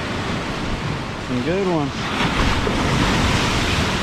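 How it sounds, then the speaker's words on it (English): Ocean surf crashing against a concrete fishing pier on the Gulf coast, a loud continuous wash of breaking waves swelling toward the end, with a brief spoken remark partway through and wind on the microphone. "Some awesome wave action today."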